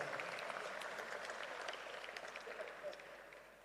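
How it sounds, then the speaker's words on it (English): Dinner audience at a legal year opening applauding, a steady wash of many hands clapping that carries on evenly and tapers slightly toward the end, with no voices over it. "Ladies and gentlemen, let's give him a big round of applause."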